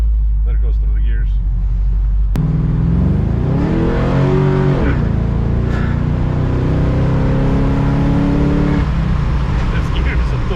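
A 1969 Camaro fitted with an LS engine roars as it accelerates hard through the gears. The pitch climbs with each gear, then settles into a loud, sustained drone, heard close with voices at times.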